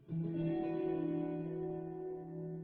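A single sustained minor ninth guitar chord with added fifth rings out with heavy reverb and effects, fading slowly over a few seconds with nothing else heard.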